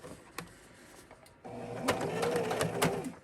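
A sewing machine stitching the side seam of a stocking, running in a short quiet burst and then in a louder, steady rapid run of stitches close to the listener.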